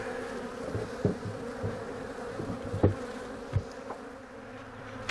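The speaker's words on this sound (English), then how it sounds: "when I open these hives up, the bees all lumped together to stay warm" Bees buzz around an opened beehive in cool evening air, a continuous close drone with scattered louder passes as individual insects fly near, and occasional faint knocks from handling the hive.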